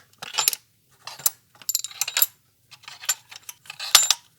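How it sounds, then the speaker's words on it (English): Metal bolts dropped by hand into the plastic intake manifold of a 2011 Cadillac SRX with a 3.0 LF1 engine, a handful of bright clinking rattles coming in separate bursts with quiet gaps between them. "Drop these bolts back down in there."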